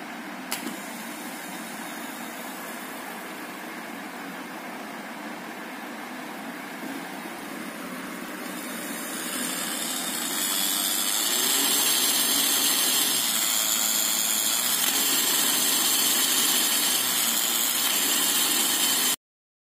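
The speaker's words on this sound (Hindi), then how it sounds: "बाइक को मोटर को देखिए इसकी साउंड सुनिए आप" An electric bike motor hums steadily, then revs up halfway through into a louder, higher whine that holds to the end, close by.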